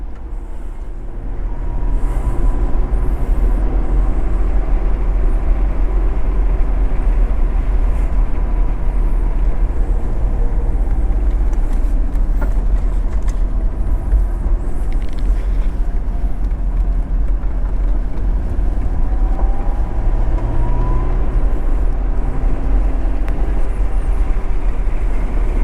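An Acura NSX race car heads out of pit lane, its engine a steady droning rumble heard from inside the car, with a constant low growl that holds at an even level throughout.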